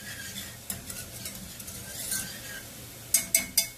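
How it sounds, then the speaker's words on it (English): Garlic browns in a pan for spaghetti with white sauce: a quiet, steady sizzle under light stirring scrapes, ending in three crisp utensil clinks against the pan. "So now the garlic is been turning into brown."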